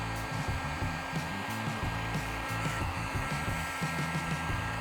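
A cheap Harbor Freight heat gun blowing hot air in a shop, a steady loud broadband whoosh with a low motor hum running continuously throughout, no voices.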